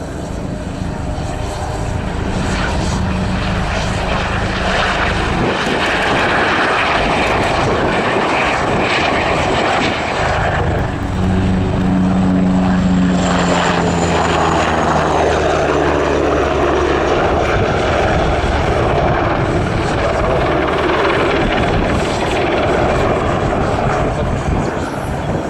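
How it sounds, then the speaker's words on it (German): Steady roar of military helicopter rotors and engines, loud and continuous, with a slow pitch shift as the H145M, NH90 and Tiger helicopters move off. "Nach der Aufnahme aller Truppen verlassen alle Hubschrauber das Einsatzgebiet"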